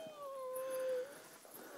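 An injured dog recovering from a hind-leg limp gives a thin, drawn-out whimper while being stretched, a high whining tone held for about a second and then fading, close and fairly quiet.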